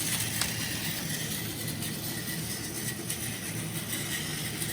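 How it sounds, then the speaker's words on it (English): A motorized Plarail toy train, fitted with a fast motor, runs along its plastic track in a toy-train contest with a steady, even whirring rumble and rattle that keeps up throughout, with no talking. "Yeah, this train is pretty fast."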